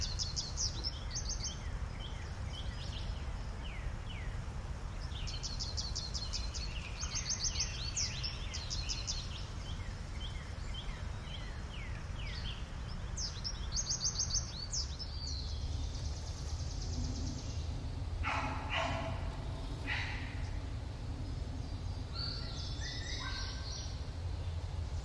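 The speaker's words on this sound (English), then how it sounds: "It's like the birds are off to the right." Birds chirp and tweet in short bursts of song, placed to one side in binaural sound design, over a low steady ambient hum.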